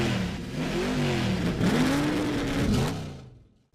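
Race car engines at Texas Motor Speedway rev loudly in a continuous roar that rises and falls in pitch, then fades out abruptly at the end, with no talking.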